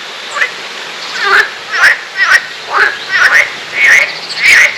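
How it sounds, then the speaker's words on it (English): Frogs or toads croak by a rocky riverbed on rural Ardèche trails in France, loud and close, with about half a dozen short rasping calls repeating at a quick, irregular pace. "they must be quite big froggies to make that amount of noise"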